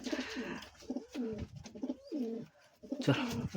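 Domestic pigeons in a loft coo in repeated throaty, rolling phrases, close and clear, several birds overlapping with short pauses between calls.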